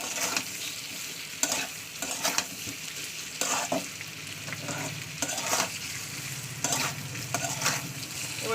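Salted boiled meat frying in oil in a pan, a constant close sizzle broken by sharp scraping bursts of a spatula stirring at irregular intervals.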